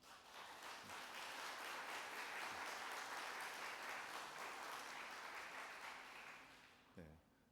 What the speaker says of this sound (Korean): 우리 박수로 환영했으면 좋겠습니다.